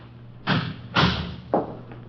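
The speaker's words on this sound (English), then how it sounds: "Close the door there." A door shuts three times in a radio drama sound effect, each a loud close thud with a brief tail, evenly spaced, with no talk over it.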